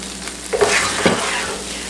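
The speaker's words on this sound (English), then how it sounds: "next we're gonna stir in the pizza sauce" Spoon stirring pizza sauce and parmesan into browned hamburger mixture in a pan, with a soft sizzle underneath and a couple of distinct scraping stir strokes close by.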